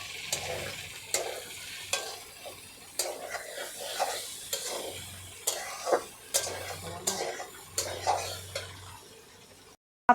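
Red and green capsicum frying in a pan of chicken fried rice, with a steady sizzle broken by repeated scraping stirs from a spatula every second or so, close and fairly loud, with no talking.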